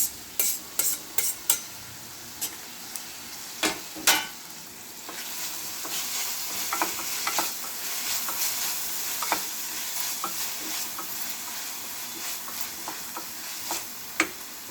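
Chopped onion and tomato sautéing in a pan, a bright steady sizzle with clusters of sharp spatula taps and scrapes, strongest early then settling into continuous frying, close up and without talk.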